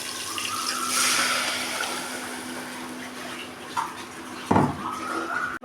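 Water pours steadily into a pot of tomato curry as a continuous, close rushing splash, with a few brief knocks near the end.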